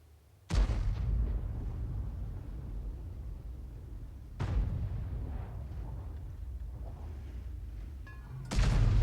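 Three heavy booming impacts of artillery shells landing in a wargame, each a sudden loud blast followed by a rumbling decay, spaced a few seconds apart.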